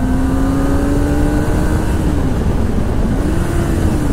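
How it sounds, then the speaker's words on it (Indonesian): A Kawasaki ZX-25R motorcycle engine drones and revs continuously in a small tunnel in Japan at midnight, its pitch rising and falling, with a boomy, enclosed echo and no talking. "kita dengarkan suara motor"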